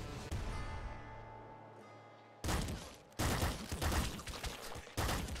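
Shotgun blasts in the video game Nuclear Throne break out in loud, close bursts, one at about two and a half seconds and more after, over a quieter game hum with no talk.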